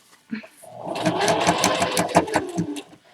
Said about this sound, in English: I'm going to sew and turn all the way up